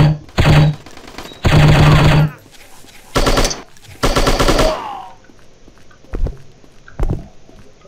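Machine gun fire in the shooting video game Striker, several loud rapid bursts of automatic fire separated by pauses, followed by a few lighter single shots, heard close and without talk.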